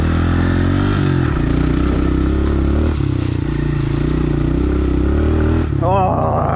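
A Honda CRF125F dirt bike engine revs loudly and steadily while stuck in snow, the pitch rising and falling as the throttle is worked, close and continuous with a brief voice at the end.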